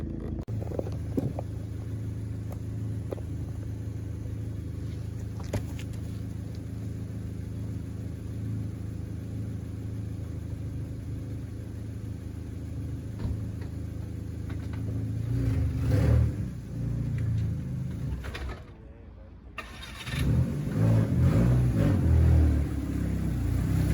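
Audi B6 1.8T car driving on the road, a steady low engine rumble and road whir from inside the cabin, rising in a couple of swells near the end after a brief dip.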